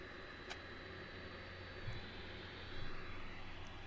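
A Pilatus PC-12 turboprop taxis at Vancouver Airport, its engine giving off a faint, steady whine and rumble heard from a distance. The sound stays even throughout with slight swells.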